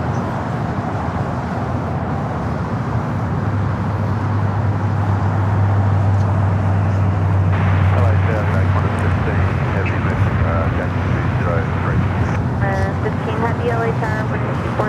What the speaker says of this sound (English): the Queen of Nippon Cargo Airlines 747-8 freighter, going to be taken off here on the south side at 25 left